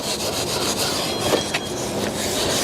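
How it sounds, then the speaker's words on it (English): Steel wool rubbing along the edges of thin rosewood veneer furniture to strip off old finish, a steady close scratchy scrubbing with no talk. "Take the little steel wool, hit the edges."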